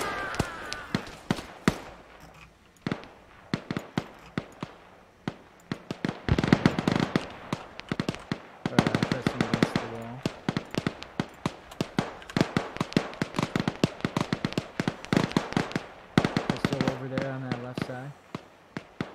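Arma 3 infantry battle with dense, rapid gunfire cracking in bursts throughout, some shots sharp and close and others distant.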